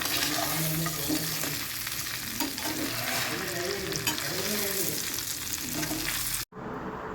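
Chicken fry being stirred in a pan with garam masala and pepper powder, a steady close sizzle with rhythmic scraping strokes that stops abruptly near the end.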